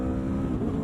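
A 2022 Aprilia Tuono V4 motorcycle engine runs at a steady idle, a close, continuous low rumble with no talking.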